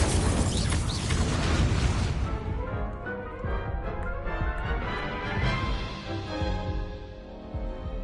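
An Incendio fire spell cast in Hogwarts Legacy lands as a loud, close whooshing burst with a crackling roar, then fades into a lower rumbling tail.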